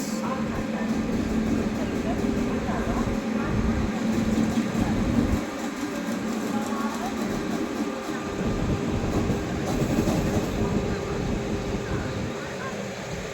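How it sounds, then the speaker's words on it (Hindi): Train noise from aboard a moving express on an Indian line as the Agra–Banaras Vande Bharat Express approaches and passes, with a continuous loud rumble, rattling and a brief rushing swell near the middle. "सामने आ गई आगरा बनारस वंदे भारत एक्सप्रेस।"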